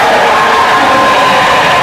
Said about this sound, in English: The crowd and the bench go wild.